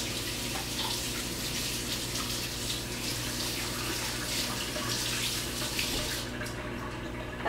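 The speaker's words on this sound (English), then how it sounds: "Rinse off my hands." Water from a tap runs steadily into a sink as dough is rinsed off hands, a continuous close splashing stream that cuts off near the end.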